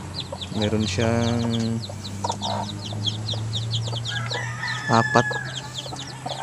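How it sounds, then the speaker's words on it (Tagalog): Chickens on a Philippine farm, a hen clucking close by and a rooster crowing, with steady cackling and chirps around them while someone speaks briefly in Filipino. "meron tayong nilagay na dito na misa na manok"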